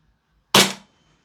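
A PTS ZEV OZ9 Elite gas blowback airsoft pistol, running on propane with 0.2 gram BBs, fires a single sharp, loud, close shot with a brief decaying tail, surrounded by silence.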